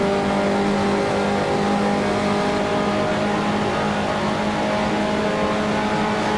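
A 1955 Formula One race car engine in the Grand Prix Legends racing game roars loud and continuous as it accelerates and shifts up into fifth gear toward the finish line of the French Grand Prix.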